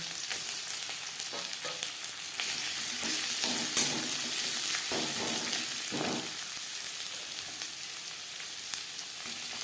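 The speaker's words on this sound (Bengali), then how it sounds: "তিন চামচ সরষের তেল গরম করে নিয়েছি দিয়ে দেব পেঁয়াজ" Sliced onions sizzle in three spoonfuls of hot mustard oil, a dense crackling hiss that fills the whole stretch, with a few louder spits and soft stirring scrapes rising above it, close and steady, no voice.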